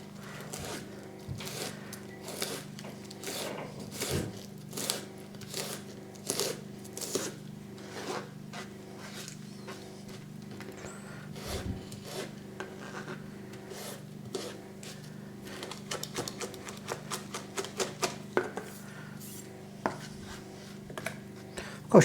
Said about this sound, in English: And then just roughly slice.